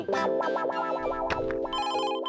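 A musical phone ringtone plays loudly and alone, a repeating warbling melody that shifts to a brighter, higher pattern near the end.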